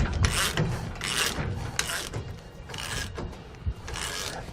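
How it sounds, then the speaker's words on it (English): A ratchet wrench tightens bolts on the rear anti-sway bar end links of a 2016 coach, giving repeated close clicking strokes in a steady rhythm. "Now we can tighten down the bolts that are holding our end links to the sway bar."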